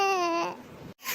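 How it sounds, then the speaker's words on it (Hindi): A woman crying in grief after a family death, a wavering, tearful wail that sustains loudly, then breaks into choked sobbing, a brief silent catch, and a final gasp. "आपके रोने की आवाज बाहर तक सुनाई दे रही है।"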